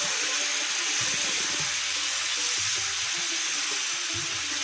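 Water poured into a hot pan of fresh cashew curry cooking over a wood-fired stove sets off a loud, continuous hissing sizzle that fills the whole moment, close and steady with low bubbling beneath; no one speaks.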